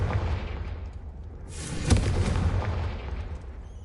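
A Confringo spell blast goes off in Hogwarts Legacy as a sudden broad burst over a low rumbling bed, then rolls off into a fading roar.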